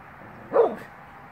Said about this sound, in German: Ich wusste gar nicht, dass er auch bellen kann.